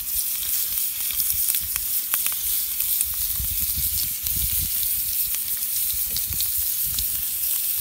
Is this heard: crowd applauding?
no